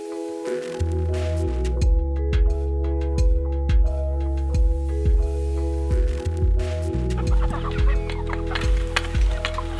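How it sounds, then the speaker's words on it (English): Several chickens cluck and murmur close by in a steady, busy chorus, with occasional louder squawks over a low background hum. "You gonna feed the chickens, Penelope?"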